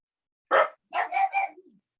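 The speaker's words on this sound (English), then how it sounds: "those are my dogs" Household dogs bark nearby, one sharp loud bark followed by a quick cluster of three more barks trailing off into a brief whine, with silence around them.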